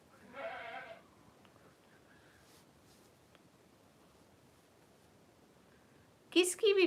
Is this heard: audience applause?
no